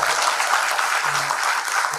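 Loud sustained applause from a conference audience at a direct selling leadership event in India, steady dense clapping filling the whole moment with a faint tone underneath.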